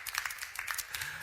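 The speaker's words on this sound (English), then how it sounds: "let's give a round of applause to all our speakers today" An audience at an education innovation summit pitch session gives a light round of applause for the speakers, scattered distinct claps heard fairly distant and faint.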